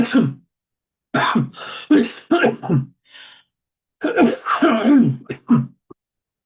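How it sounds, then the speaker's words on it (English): Two bouts of harsh, close winter coughing, several rough bursts each, separated by a short pause. "winter cough is starting to come back"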